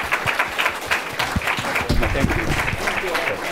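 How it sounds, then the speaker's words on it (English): An audience at a policy panel on threats facing the U.S.-Korea alliance gives the panelists a sustained round of applause, steady and fairly loud throughout, with a voice briefly speaking over it. "Would you give a big applause to the whole panelists?"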